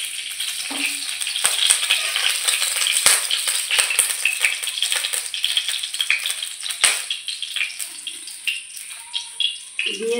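Nigella seeds hitting hot oil for tempering crackle and sizzle loudly, with sharp pops over a dense frying hiss that stays close and steady.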